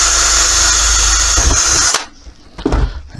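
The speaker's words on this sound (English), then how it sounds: "So now I'll drill the mounting holes." A power drill with a worn bit bores mounting holes in a clamp storage rack, a loud steady whine for about two seconds before cutting out, followed by a couple of softer handling knocks.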